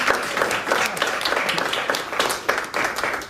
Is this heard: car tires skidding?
no